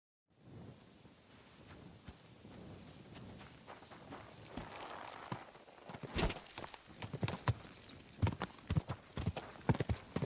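Horse hooves clip-clop at a walking pace in Kingdom Come: Deliverance II, starting soft and growing louder and sharper toward the end, with faint background ambience and no talking.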